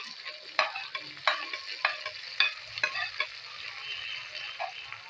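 Chillies and tomatoes frying with onion and garlic in a hot pan for aloo keema: a lively sizzle broken by repeated scraping stirs, about one every half second, close up and without voices.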